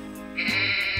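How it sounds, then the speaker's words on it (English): A sheep bleats once, a loud, close, sustained wavering call with no talk. "I myself first realized I had a big head when I noticed a small flock of sheep was following me"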